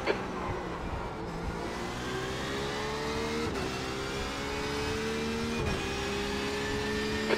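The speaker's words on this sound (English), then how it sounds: "There's a faster class car behind." Race car engines in iRacing at the Nürburgring GP circuit, a Porsche 911 RSR droning at speed while a faster class prototype closes from behind, revs rising and falling through two sharp upshifts.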